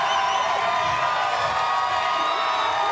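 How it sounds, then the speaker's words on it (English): Loud, steady roar of a large crowd cheering and whooping for athlete Rebecca Fuselier at the CrossFit Games, a dense wall of voices continuing without a break. "And here comes the crowd behind Rebecca Fuselier."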